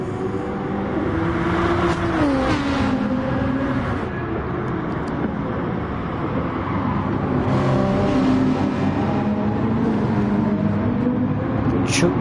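Racing cars in a PS4 racing game at the Nürburgring GP, three cars battling closely, with loud sustained engine drone and rising and falling revs as gears shift, continuous and up front.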